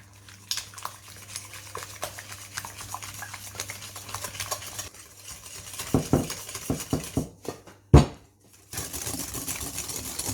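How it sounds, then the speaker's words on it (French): Softened butter and sugar for an apple cake batter being stirred by hand in a bowl, with a steady run of close scraping and tapping strokes and no talking. "Je vais mettre 130 g de sucre pour mélanger. Mélanger tout ça."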